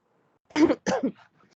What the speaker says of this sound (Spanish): tengo mucha tos